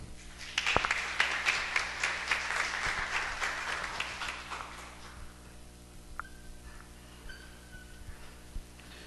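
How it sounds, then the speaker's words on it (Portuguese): A church congregation in Franca, São Paulo claps after a scripture reading, a burst of applause that swells quickly and then thins out into scattered claps and quiet room tone. "Aplauda a palavra do Senhor."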